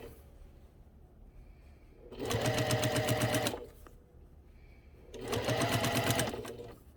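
A sewing machine stitching quilt fabric in two separate bursts of about a second and a half each, with quiet pauses between them. It runs close and loud, with no talking.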